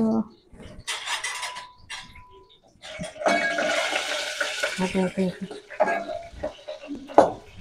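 Spices for tempering pop and crackle in hot oil in a home kitchen, with a loud hissing burst midway and scattered sharp crackles, while someone talks over much of it.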